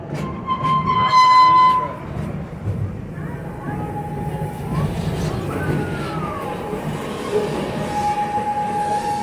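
The Serengeti Railway train at Busch Gardens sounds a loud horn, then keeps running with a steady rumble and wheel squeal on a curve.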